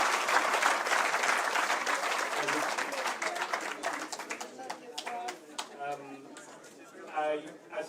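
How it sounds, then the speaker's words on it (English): Audience applauds warmly at a Biafra genocide exhibition in London, dense clapping that thins into scattered individual claps as it fades, with voices talking over the tail end. "please, one more round of applause for Prof."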